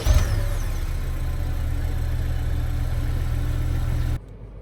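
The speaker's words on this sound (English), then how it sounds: "to start the engine, just put your foot on the brake and then push the button to start" A 2025 Honda Civic V Turbo fires up from push-button start with a brief rising whir, then settles into a steady, low, even idle that continues until it drops away near the end.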